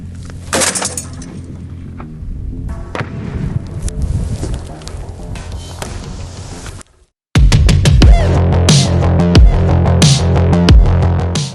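Loud, rapid bursts of heavy fire from an AGS-17 automatic grenade launcher with sharp cracks and rumbling echoes, a short silent gap, then another intense stretch of repeated blasts.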